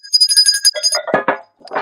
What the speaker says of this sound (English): I got the levity bell and the decorum bell, in case we have a guest that gets out of hand.